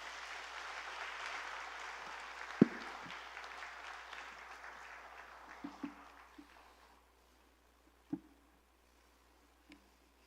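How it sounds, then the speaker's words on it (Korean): Applause welcoming a pastor at a Korean Sunday church service. Steady clapping fills the room for several seconds, then fades into a few scattered claps and thuds. "박수로 모시겠습니다."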